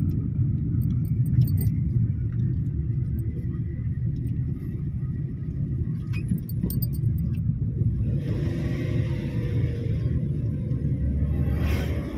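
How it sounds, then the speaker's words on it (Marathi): A Royal Enfield Bullet motorcycle running on CNG rumbles along a ghat road, a continuous low engine drone held steady throughout with faint rattles and wind noise on top, no talking over it. "CNG वर चालवली बुलेट गाडी एवढी."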